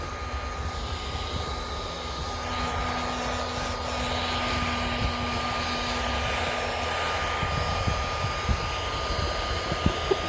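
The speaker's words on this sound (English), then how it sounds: "We'll just use my heat gun." A heat gun blows hot air onto a car dent, giving a steady, loud, continuous whooshing roar that holds unbroken throughout with a faint tonal whine, close by and alone.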